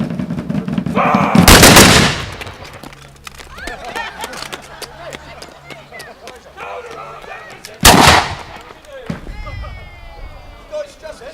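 A firing squad in a historical reenactment fires two loud rifle volleys several seconds apart, each a sharp crack with a brief rolling echo, between shouted commands and talk.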